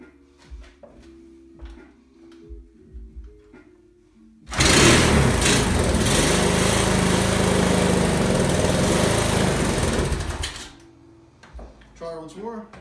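A 1981 Honda XL125s single-cylinder motorcycle engine with a carburetor needing adjustment fires up and runs loud and close for about six seconds with a steady buzzing drone, then cuts out, with talking before and after.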